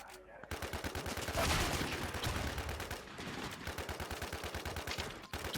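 Rapid gunfire in a first-person shooter video game, a fast stream of loud, evenly spaced shots rattling almost continuously, with shotgun blasts mixed in and a brief pause near the end, under excited player chatter.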